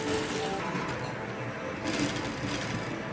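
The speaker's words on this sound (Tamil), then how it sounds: "ஒன்று ஒன்றா வச்சு இப்படி நம்ம தச்சு எடுத்துடலாம்" A sewing machine stitches a designer blouse in a steady close whirring run, its rapid needle chatter speeding up toward the end, with no talk.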